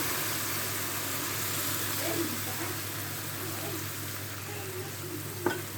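Syrup poured over freshly baked, hot plain jalash pastry with no nuts, producing a steady close sizzling hiss that holds evenly throughout, with a brief sharp clink near the end.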